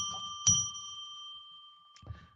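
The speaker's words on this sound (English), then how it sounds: "So I'm going to now ring a bell 3 times to declare a sacred space" A bell rung to open a psychic reading session gives a clear ding with a long ringing tail, then a second softer strike near the end; only two strikes stand out rather than three.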